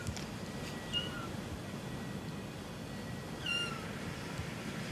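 Two faint, high kitten meows about two seconds apart, over a quiet background hiss, at an SPCA animal shelter.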